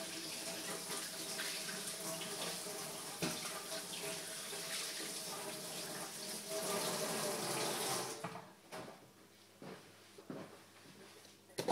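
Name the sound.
tap water running while washing hands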